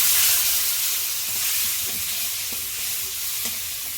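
Turmeric water poured into frying spice paste for a yogurt pointed gourd dish gives a loud, steady sizzle and hiss with occasional spoon scrapes and taps while stirring, close by.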